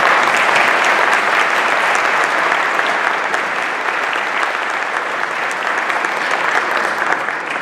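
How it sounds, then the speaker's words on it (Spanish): An audience applauds continuously at a 50th anniversary ceremony, dense sustained clapping at an even loudness from start to finish. "y a nuestro presidente, Jaime Lovera, para los que os pido un aplauso"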